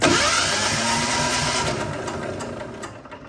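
A 1975 John Deere 300 garden tractor, modified for snow and winter use with an added choke cable, cranks over without compression, a steady loud whirring churn of engine and starter that eases off toward the end.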